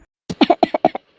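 A cartoon character gives a short fit of coughing, about six quick sharp barks in a row, close and clear against silence.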